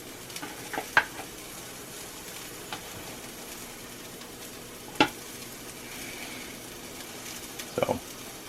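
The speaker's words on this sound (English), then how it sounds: "I like to start them in the pan, brown them up" Meatballs browning in a cast iron pan give off a quiet, steady sizzle, broken by a few sharp clicks and scrapes of a utensil turning them.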